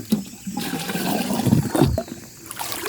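Water scooped from a muddy river during the dry season, giving short splashing and pouring gurgles in a couple of bursts, close to the listener, with no talking.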